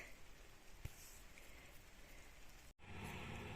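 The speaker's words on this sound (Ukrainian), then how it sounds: "там сонце ж, а тут оце дощик іде" Light rain falling outdoors, a steady soft patter of drops throughout, with one sharp tap near the start and a brief dropout before the patter resumes.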